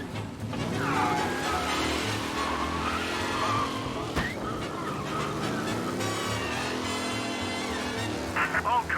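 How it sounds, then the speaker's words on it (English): A race car speeding with squealing, skidding tires in the Mafia video game, a steady loud engine roar with tire screeches and a sharp impact midway, mixed with other game sounds throughout. "Be alert for a race car out on the roads tonight."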